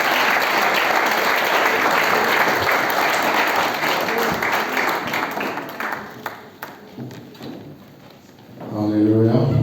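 Church congregation applauding loudly and steadily for several seconds, the clapping thinning out and fading before a voice begins speaking at the end.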